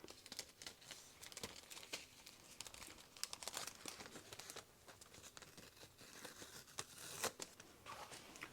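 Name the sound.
peeling off a small piece of tape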